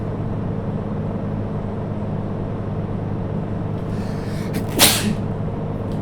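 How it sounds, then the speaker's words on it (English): A single sharp sneeze bursts out near the end over a steady engine drone from a Cirrus SR22 in the X-Plane 11 flight simulator. "that was a real life sneeze"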